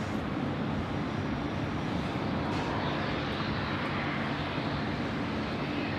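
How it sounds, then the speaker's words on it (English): Vietnam Airlines jet taking off from Sydney Airport in wet, rainy conditions, a broad, steady roar of engines and spray held at constant loudness throughout, with no voices. "Vietnam now cleared for takeoff."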